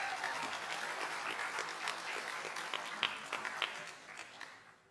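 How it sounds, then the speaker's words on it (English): Audience applause at a security conference talk on a DPRK intrusion, a steady wash of clapping from the crowd that fades out toward the end. "Round of applause."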